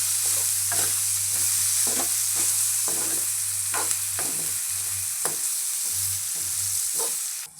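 Bitter gourd frying in a pan, with a steady sizzle and a low hum underneath while a utensil scrapes and stirs in regular strokes roughly every half second, close and clear.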